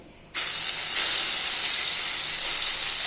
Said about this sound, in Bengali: এবার আমি একটা একটা করে ভেজে নেব।